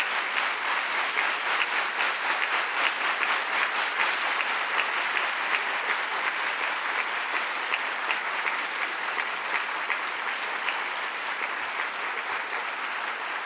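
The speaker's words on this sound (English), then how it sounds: "Let us all give both the panelists a big round of applause." Sustained applause from an audience honoring two panelists at a formal gathering, a steady dense wash of clapping at moderate level that continues evenly for the whole stretch without speech.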